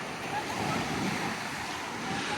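Sea waves roll onto a beach at high tide at Pantai Bumi Hijau, Sabak Bernam, Selangor, making a steady broadband wash with wind noise and no distinct breaks.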